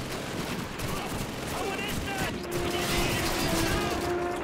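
Enemy gunfire crackles in a Call of Duty 2 battle, dense bursts of rifle and machine-gun shots mixed with mechanical clatter, steady and loud throughout, with a faint voice in the background.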